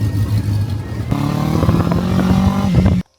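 A friend's motorcycle engine runs close by, a steady loud rumble that picks up to a brisker, higher idle midway before cutting off abruptly.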